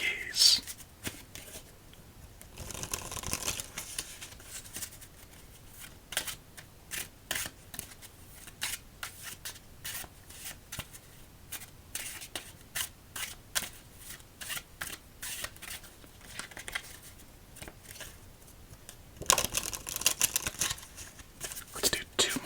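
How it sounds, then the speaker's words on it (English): Repeated crisp riffling bursts of playing cards being shuffled close up, with soft whispered talk between and over the shuffles. "Let's do 2 more shuffles."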